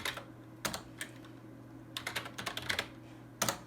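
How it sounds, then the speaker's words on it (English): A user types a command at a computer keyboard on a CP/M 3 system. The keystrokes come in short irregular bursts of close clicks with pauses between them, loud and clear against a low background hum, and nobody talks. "Let me type it again so it's on the screen as we run it."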